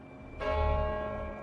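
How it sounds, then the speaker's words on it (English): Church bells of St Paul's Cathedral in London ring out, a bright metallic peal with sustained ringing overtones that starts abruptly and hangs on, heard alone without voices. "In London, the bells of St. Paul's rang out"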